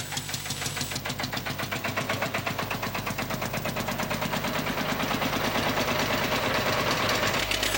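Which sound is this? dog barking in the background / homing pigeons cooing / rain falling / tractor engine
tractor engine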